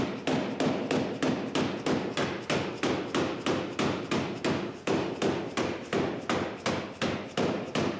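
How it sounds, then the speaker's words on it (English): A hammer strikes the sheet metal skin of a travel trailer in a fast, steady rhythm, about two sharp blows per second, loud and close throughout. "I'm being very careful not to strike it with the edge of the hammer"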